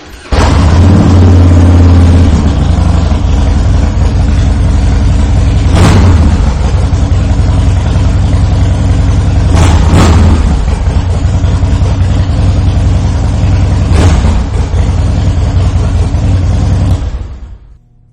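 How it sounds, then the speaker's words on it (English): A 2006 Harley-Davidson Fat Boy with an 88 cubic inch engine and Vance and Hines exhaust starts, then idles with a deep, loud, close rumble, with a few sharp throttle blips before cutting off near the end. "go ahead and fire this bike up so you can hear it"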